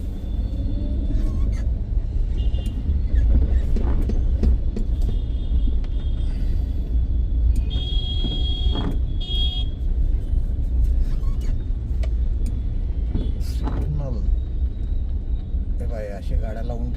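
Traffic rumbles on rain-soaked city roads in Nashik during heavy rain, a steady low engine drone with a few higher whines and faint horns, heard from inside a vehicle.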